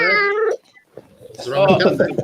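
A house cat named Vanessa Kitty gives one clear, close, drawn-out meow, followed after a short pause by a person talking.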